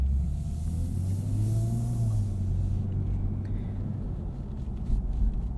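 A 2023 Lexus IS 350 F Sport AWD pulls away. The engine note climbs in a low drone and then gives way to a rougher rumble of tyres and road noise, heard from inside the car.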